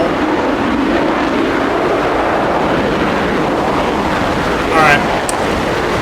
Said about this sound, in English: Let's wait for the engine to stop drowning me out.